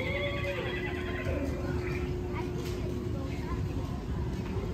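A horse ride at Legoland Florida gives out a recorded neigh and whinny over a constant mechanical hum and rumble. A child's and an adult's voices are heard nearby.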